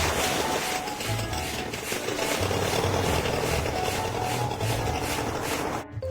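A toy water pump runs steadily while filling a miniature sea water park build, a continuous mechanical hum and rattle with low pulsing thumps throughout, stopping abruptly near the end.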